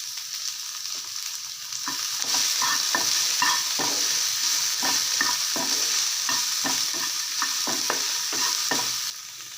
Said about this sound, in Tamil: உப்பு போட்டுட்டு நல்லா வதக்கிறப்ப அந்த குழகுழப்பு சீக்கிரம் போகும்.